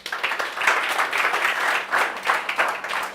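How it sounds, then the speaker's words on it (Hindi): Loud applause from a class of students at a CA Foundation law revision lecture, a dense steady wash of clapping that swells and holds through the whole stretch. "मैं चाहती हूँ एक बार आप लोग अपने लिए जोरदार तालियां बजा दो"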